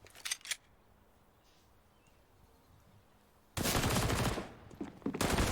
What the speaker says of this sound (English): And we're off into the slew of bullets